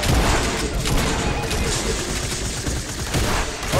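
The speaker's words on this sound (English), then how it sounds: "I got shot again." In a Fortnite match, gunfire hits the player as continuous rapid automatic shots and cracks that stay loud and close throughout, with brief voices from teammates mixed underneath.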